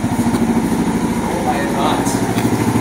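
A motorcycle engine runs loud and close with a steady, pulsing idle-like rumble as the trail bike is ridden up for loading, while people talk over it.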